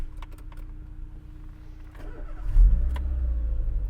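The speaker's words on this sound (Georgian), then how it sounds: "მანქანა მოგადგა." A car's engine runs low and steady, then swells louder as the vehicle pulls up close, with a deep rumble that lingers at idle.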